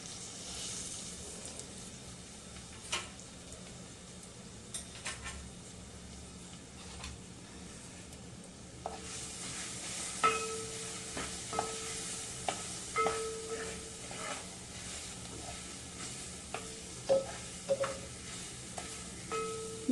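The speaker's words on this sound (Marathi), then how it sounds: "हे वाटण चांगलं परतलं पाहिजे" Ground spice paste with turmeric and chilli sautéing in hot oil for a dry potato dish, a soft low sizzle at first, then livelier crackling and stirring scrapes in the second half, close and alone.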